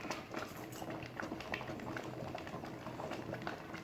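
A pot of ragi porridge bubbling at a steady boil, with continuous soft popping and gurgling close by, no talking.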